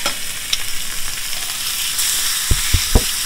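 Skirt steak in a hot cast iron skillet sizzles loudly and continuously up close, with a few low thumps near the end as the meat settles in the pan.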